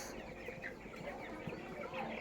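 Twelve-day-old broiler chicks in a poultry shed, their clucking and chirping forming a faint, continuous chatter from many birds.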